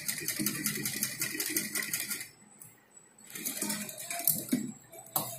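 A sewing machine stitches the back neck of a designer blouse in fast, steady mechanical runs, pausing briefly near the middle before starting again for a few more bursts; no one talks.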